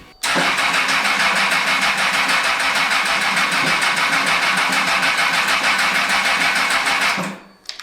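A homemade Formula 1 car's engine fires up and runs hard at close range, a loud, dense, rapid rattle of firing that holds steady for about seven seconds before abruptly cutting out.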